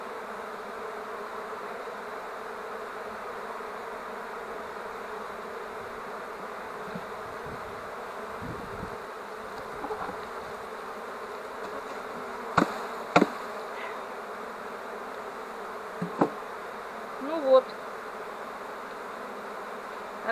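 A honey bee swarm settling into an empty hive gives a steady, dense buzzing hum that fills the air close by, with a few faint knocks and no talking.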